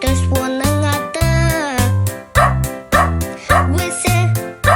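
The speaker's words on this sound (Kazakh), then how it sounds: "Көрші үйде ит болды, Ақтөс оның аты." A cartoon dog's barks set to music in a Kazakh children's song, loud repeated bow-wow barks in a steady rhythm over a bright backing track.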